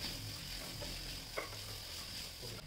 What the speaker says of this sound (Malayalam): ഇതെല്ലാം കൂടി വീണ്ടും നല്ലതുപോലെ വഴറ്റിയെടുക്കണം